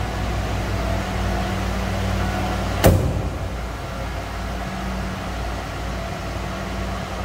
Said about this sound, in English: Sounds as you'd expect a 1987 Ford F-150 to sound.